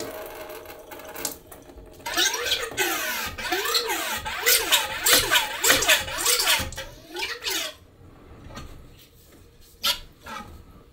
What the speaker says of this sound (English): Pump the old oil out of inner chamber.